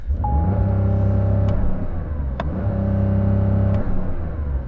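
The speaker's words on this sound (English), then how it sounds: "put it into launch control mode and then like sort of rev it in launch control" Lamborghini Sterrato engine held in launch control mode, revving steadily up close with a sustained droning rumble that cuts out briefly and then resumes at the same pitch.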